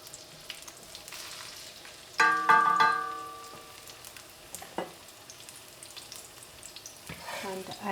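Three to four tablespoons of cooking oil heating in a pan over the fire, with a quiet, steady frying hiss, a louder burst of sizzle and clatter partway through, and a few sharp knocks.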